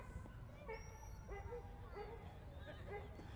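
Trained hunting dogs working in the field yip and whimper in short repeated bursts, fairly faint and at some distance, mixed with human voices and background chatter.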